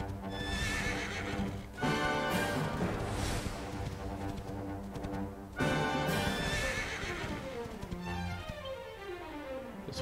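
A horse in Dragon Quest XI neighs and whinnies in loud, drawn-out calls, with clip-clopping hooves running beneath and a couple of sharp bursts where new calls begin; no talking.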